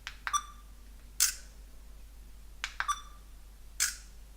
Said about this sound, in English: So I'm just going to take a few pictures.